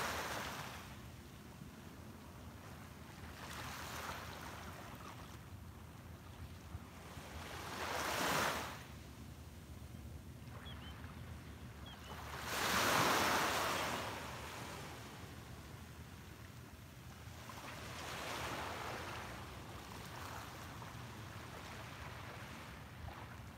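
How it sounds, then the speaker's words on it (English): Ocean waves break on a beach at sunrise, each slow surge rising and washing out in turn against a soft, constant background of surf and light wind. "soak in the colors and the sounds of the waves"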